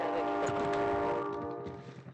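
A train in the video game Warzone rumbles past with a sustained horn-like tone over mechanical noise, loud and steady before fading slightly toward the end.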